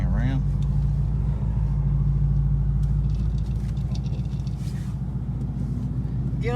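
A supercharged 2018 Mustang S550 with a Coyote V8 and VMP Odin blower rumbles and drones steadily from inside the cabin during a ride, low and loud throughout, with people talking over it.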